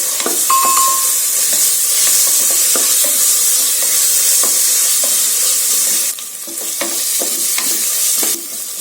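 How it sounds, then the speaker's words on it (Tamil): Ginger garlic paste sizzles steadily in hot oil in a pan while a spoon scrapes and stirs it, a loud continuous hiss broken by regular stirring knocks, no voices. "இஞ்சி பூண்டு பேஸ்ட் சேர்த்து நல்லா எண்ணெய் பிரிஞ்சு வர்ற வரைக்கும் நல்லா வதக்கிக்கோங்க."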